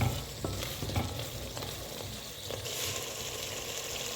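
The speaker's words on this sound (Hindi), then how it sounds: "अच्छा जी, हमने इसको अच्छे से भून लेना है इस ग्रेवी को।" Chana gravy for Lahori chole sizzles and fries in a pan while being stirred, with a steady crackle and occasional scraping knocks from the spoon, close and fairly quiet with no talk.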